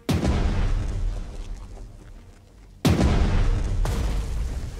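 Three heavy explosions boom one after another in a tank strategy video game, each a sudden loud blast followed by a rumbling tail.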